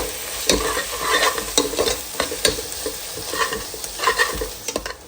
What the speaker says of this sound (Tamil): மசாலா சேர்த்து நல்லா மிக்ஸ் பண்ணியாச்சு